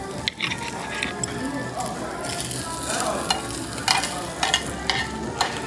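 Beef short rib sizzles on a Korean barbecue grill, with a steady frying hiss, occasional sharp crackles and pops, and faint voices and clatter in the background.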